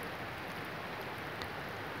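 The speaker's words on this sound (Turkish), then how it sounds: "Deli gibi yağmur yağıyor." Heavy rain falls steadily beside a Swiss lake where a mountain stream joins a river, a constant even hiss with no pauses, fairly faint and without voices.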